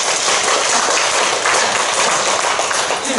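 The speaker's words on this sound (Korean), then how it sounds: "박수 한번 칩시다." Church congregation at a Sunday worship service clapping together, a loud continuous wash of many hands close by, steady for a few seconds with no speech.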